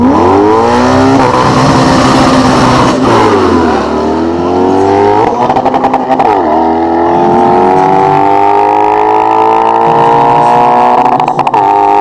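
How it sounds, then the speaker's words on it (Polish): A Lexus IS F race car accelerates hard on a drag-style track at Biała Podlaska, its loud V8 rising through gears with sharp shifts and repeated climbing whines, close and dominant. "z Lexusem prowadzonym przez Konrada Łuniewskiego"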